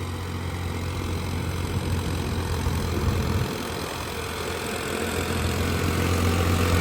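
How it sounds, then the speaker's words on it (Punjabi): A 55 HP tractor pulling a Lemken 3MB plough through a potato field drones steadily under load, a continuous low engine rumble with even, unbroken noise and no voices. "ਲੋਡ ਦੇਖ ਲਓ ਕਿੰਨਾ ਟਰੈਕਟਰ ਤੇ"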